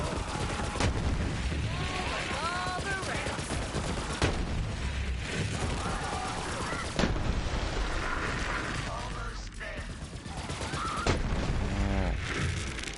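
Rapid gunfire and booming explosions from the Borderlands 3 video game, a dense continuous barrage of shots and blasts running throughout with a few louder bursts.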